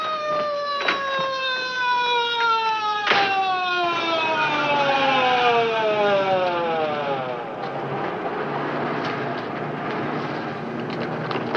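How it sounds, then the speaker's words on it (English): An ambulance's wailing siren sweeps up and down in pitch, fairly loud and steady, with a couple of sharp knocks near the start. "There's the ambulance."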